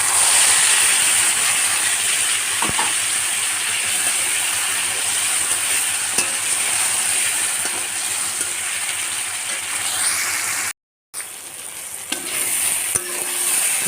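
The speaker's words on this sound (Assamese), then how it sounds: "এনেকৈ বিলাহীটো লাৰি থাকিব।" Tomatoes for a coconut fish curry fry in a pan while being stirred, giving a loud, steady hiss and sizzle with occasional scraping stirs and a brief dropout near the end; nobody speaks.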